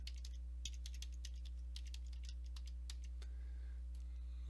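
A search being typed on a computer keyboard, rapid irregular clicks of keystrokes close by over a constant low electrical hum, with typing thinning out near the end.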